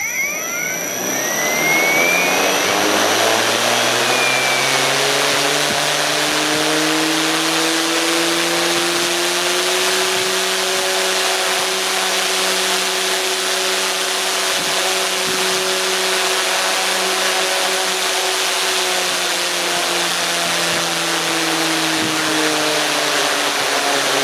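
A 3D-printed Halbach motor runs outdoors on a big battery, spinning up into a loud, steady, high-pitched whine that holds continuously throughout.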